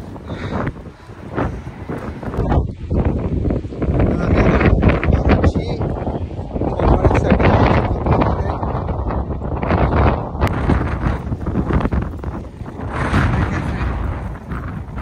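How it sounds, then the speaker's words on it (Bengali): Strong wind on a street in Long Beach, New York, buffeting the microphone in loud, rumbling gusts that rise and fall continuously, with a voice faintly heard beneath. "প্রচন্ড বাতাস, অনেক বাতাস।"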